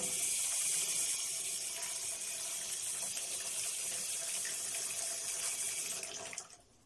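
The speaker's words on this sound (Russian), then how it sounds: "берем вот такой таз с водой или просто ведро, как у меня, и набираем горячей воды на дно" Hot water runs steadily from a tap into a bucket, a close, continuous hiss and splash that holds even for about six seconds before cutting off abruptly near the end.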